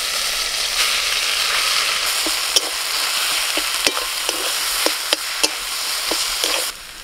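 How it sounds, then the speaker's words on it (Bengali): Soybean paste sizzles in a little oil in a wok, a dense, loud, continuous hiss up close with a few sharp ticks and taps of stirring, ending with a slight drop. "কড়াই খুব সামান্য একটুখানি তেল দিয়েছি, আর তেলের মধ্যে এই যে সোয়াবিনের পেস্টটা করে নিয়েছি এটা দিয়ে দেবো।"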